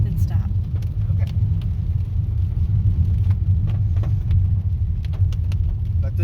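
A small car driving along a narrow one-lane road, giving a steady low engine and road rumble heard from inside the cabin, with faint knocks and rattles over it.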